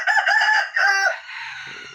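A captured wild red junglefowl rooster gives one loud, close crow that rises and then trails off, followed by faint, low background noise.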